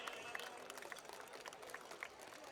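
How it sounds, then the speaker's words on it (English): A graduation ceremony audience applauds: a faint, distant wash of many hands clapping that continues steadily without a break. "A big round of applause, ladies and gentlemen."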